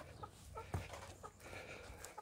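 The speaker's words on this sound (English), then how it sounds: "We've got one that decides that it wants to go and meet the other hens." A hen on an allotment gives a few soft, short clucks at a moderate distance, spaced irregularly against background outdoor noise and light rustling.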